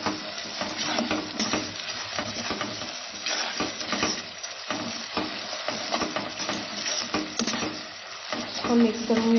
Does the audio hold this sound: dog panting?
no